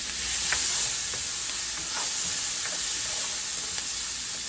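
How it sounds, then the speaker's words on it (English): Vegetables softening in a pan of olive oil and butter, with a steady close sizzle and faint scattered stirring clicks, no talk. "I did about a tablespoon of olive oil and a tablespoon of butter, and we're just going to let these saute real quick"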